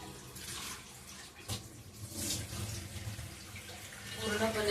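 Water runs and splashes steadily while soaked rice and dal are rinsed in a kitchen, a close, continuous wash with a few louder sloshes and no pause.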